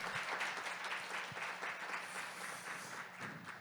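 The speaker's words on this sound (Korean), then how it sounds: "우리 고생하신 또 네 분께도 큰 박수 다시 한번 부탁드리겠습니다" Sustained applause from an audience at a public education forum in Seocho, a dense continuous patter of clapping held at a moderate, even level.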